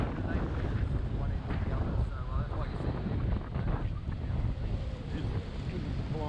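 Blustery wind at Bondi Beach buffets the microphone in loud, rumbling gusts, with surf-like roar underneath and a voice talking over it.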